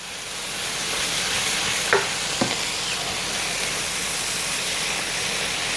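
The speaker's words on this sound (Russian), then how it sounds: "грибочки начинают поджариваться" Mushrooms fry in a pan, giving a loud, steady sizzle with a couple of brief scraping stir sounds partway through.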